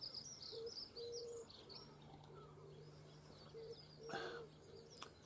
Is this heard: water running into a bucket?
no